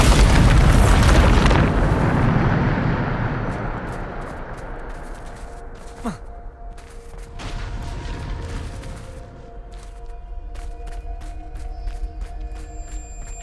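A Bombarda blast spell in Hogwarts Legacy goes off as a loud booming explosion that rolls out into a long fading rumble, followed by sparse clicks and small debris sounds.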